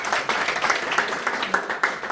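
A crowd applauds, many hands clapping together in a dense, continuous patter, fairly loud and close, with no voices over it.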